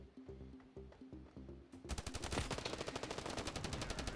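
Rapid gunfire from the Standoff 2 shooter game: sparse shots at first, then a dense, loud automatic burst of evenly spaced reports that carries on steadily to the end, with no talking.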